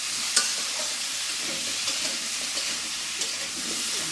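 Pointed gourd frying in oil in a home kitchen, a steady close sizzle with soft hissing and occasional stirring clicks, no voices.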